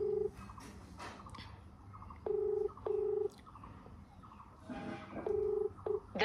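A phone call being placed, with a series of sharp electronic tone bursts repeating at intervals over a low background hum; no one speaks.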